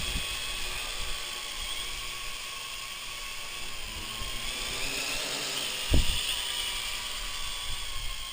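MJX X101 quadcopter with new motors spinning up and flying, a steady high-pitched mechanical whine holding throughout, close and constant, with a brief thump partway through.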